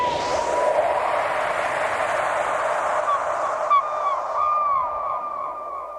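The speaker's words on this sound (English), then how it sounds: "when transitioning from one section to another, I added this gulls effect." Gull calls used as a transition effect in a hip-hop beat: a bright, steady wash of bird cries with rising and falling squawks near the end, fairly loud and continuous with no talking.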